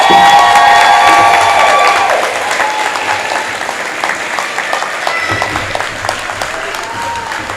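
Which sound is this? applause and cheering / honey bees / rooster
applause and cheering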